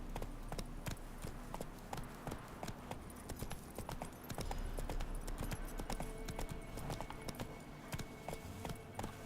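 Horse hooves clip-clop in a steady, quick rhythm as a mount trots along in the Witcher 3 video game, with a faint low background score underneath.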